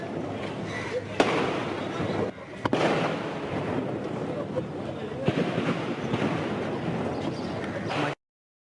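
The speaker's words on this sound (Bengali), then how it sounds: "অভিযান শুরুর পরপরই শোনা যায় মুহুর্মুহু গুলির শব্দ" Rapid bursts of gunfire erupt during a joint SWAT and army operation at a Gulshan restaurant, with sharp cracks over a constant, dense background roar lasting throughout.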